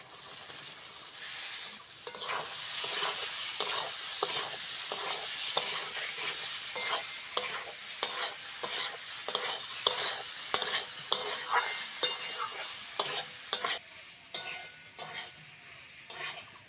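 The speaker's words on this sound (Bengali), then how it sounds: "সয়াবিন আর আলুটা মশলার সঙ্গে ভালো করে কষে নিয়েছি" Boiled soybean chunks and potato being sautéed with spices in a pan, a steady oily sizzle broken by repeated rhythmic scrapes and clacks of a spatula stirring against the metal, close and fairly quiet.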